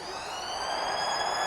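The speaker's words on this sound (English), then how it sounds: "There's the siren for half-time." A stadium siren sounds for half-time at a 2025 NRL rugby league match between the Sea Eagles and Sharks. It is a steady, sustained tone heard at a distance over constant crowd noise.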